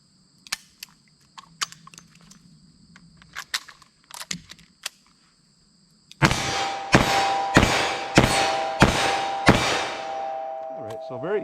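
A revolver firing .357 Magnum Hornady Critical Duty rounds in a rapid string of about six loud cracks, preceded by quieter clicks and handling of the gun and speed loader.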